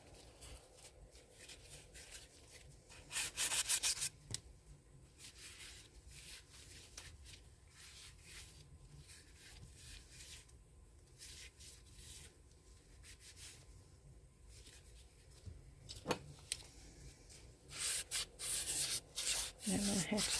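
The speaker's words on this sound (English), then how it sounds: "I'm going to have to sand all the edges before I put the resin on the inside." Steady rubbing scrape of sandpaper along the edges of a resin crete coaster, continuous and close, with a few louder, harsher strokes near the start and end.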